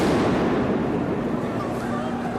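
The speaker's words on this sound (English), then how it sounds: "there's another flashbang" Flashbang grenade going off during a night street protest in downtown Seattle, a loud rumbling burst that fills the clip with sustained crowd noise and echo.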